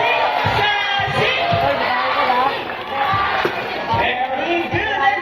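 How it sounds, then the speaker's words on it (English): An audience of girls cheers loudly in a rhythmic, repeated chant at a bird show at Manila Ocean Park, with the chanting in close, regular bursts over crowd noise. "Come on, girls, let me hear your cheer."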